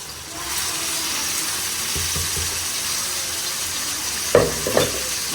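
Marinated meat fries in masala for Sindhi biryani, a steady, loud sizzle throughout with a couple of brief stirring knocks near the end.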